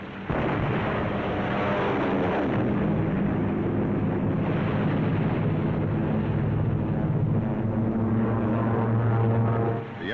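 A WWII fighter airplane in flight over enemy ships near the shore, its propeller engine giving a loud, rough, continuous roar that holds steady for about ten seconds before cutting off.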